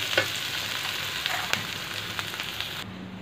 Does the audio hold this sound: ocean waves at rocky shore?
no